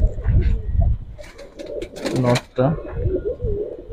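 Giribaz racer pigeons coo softly in a loft, their low throaty calls mixed with someone talking close by.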